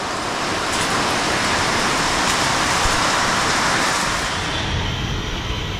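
Rain falling outdoors near a pigeon loft, a dense steady hiss of drops on surfaces, fairly loud and continuous with a faint passing vehicle murmur underneath.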